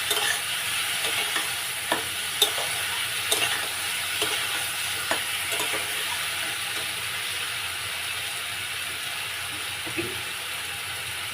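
Spice masala stir-fried in a pan for a fish curry with eggplant and potato, a steady close sizzle with scraping spatula strokes recurring at an irregular pace, no voices.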